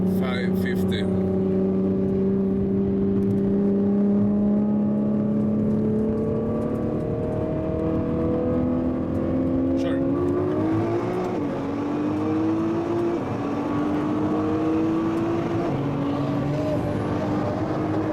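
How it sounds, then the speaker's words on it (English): A 900-horsepower Nissan GTR racing a 550 Underground Racing Lamborghini Gallardo, engines roaring loudly under hard acceleration with climbing pitch and a gear change, sustained and close, with voices speaking over the noise. "GTR 900 horsepower versus underground racing Gallardo 550"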